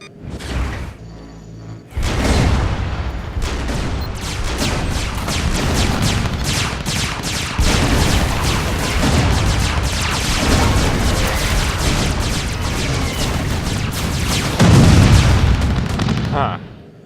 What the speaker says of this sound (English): These guided missiles help keeping them from coming back.